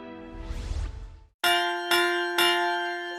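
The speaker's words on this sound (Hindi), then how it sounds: "सुनो घंटी बजी स्कूल की" A school bell: three loud metallic strikes ring out about half a second apart, each clang lingering, after a brief rumbling noise.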